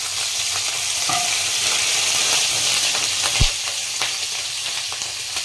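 Green chillies and curry leaves hit hot oil in a tempering for a farali moraiyo dish, crackling in a loud, bright, steady sizzle up close, with a single knock of a utensil midway and no speech.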